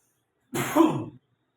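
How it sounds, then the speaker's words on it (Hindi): A single short throat-clearing cough, close and fairly quiet, alone in silence. "थोड़ी सी खांसी हो गई है वातावरण परिवर्तन के कारण"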